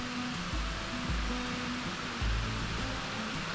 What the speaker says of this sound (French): je crois que cette cascade située juste en amont du pont de Chanciat sur la rive droite de la Vienne